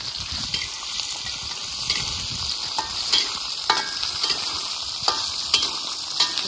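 Food frying in hot oil gives a steady close sizzle, with scattered pops and crackles and occasional stirring scrapes throughout, and no talk.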